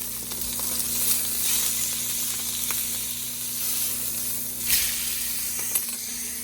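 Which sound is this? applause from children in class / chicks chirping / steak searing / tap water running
steak searing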